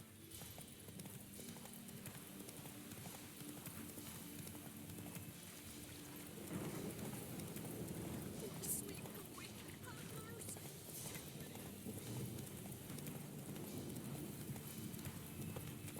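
The horse Roach's hooves gallop at a steady, rapid clip-clop rhythm across the whole stretch in The Witcher 3, moderately loud and continuous over a faint rushing background, with a brief sharper burst partway through.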